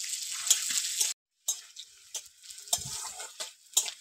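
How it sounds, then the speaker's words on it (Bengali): Chopped onions fry in oil for a lau shak and lentil-wadi chorchori, giving bursts of crackling sizzle broken by a brief silent gap and scattered tapping of a utensil, up close. "দেখুন পেঁয়াজটা লাল লাল করে ভেজে নিয়েছি"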